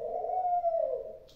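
A single soft, low coo from a pet dove, close and clear against a quiet background, with a slight rise and fall before it fades.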